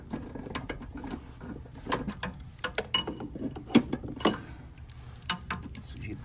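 Ratchet with an extension turning a tight 1/4-inch bolt inside a furnace: short bursts of close clicking and metallic rattles at an uneven pace, with quiet handling noises between them.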